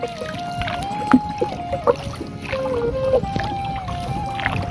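A small rowboat is paddled on open water on a breezy afternoon, with soft splashes and creaks from the oars under a steady hum and occasional knocks.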